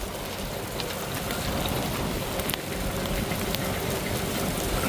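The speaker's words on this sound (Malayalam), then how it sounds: "മഴയോ മഴ" Heavy summer rain pours down in Dubai, a dense steady hiss filling the whole clip with no talk and a faint engine murmur underneath.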